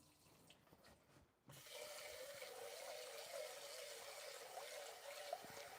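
Water runs into a bowl as rice is rinsed before going into the rice cooker, a quiet start giving way to a steady splashing, gurgling stream that continues at an even level.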